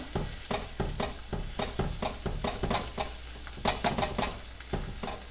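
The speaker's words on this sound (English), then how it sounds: "Now we're going to add that sausage back in. Give it a little bit of a fold." Sausage being folded into eggs in a hot frying pan: steady sizzling under a repeated rhythm of spatula scrapes and stirs, close up and with no talk.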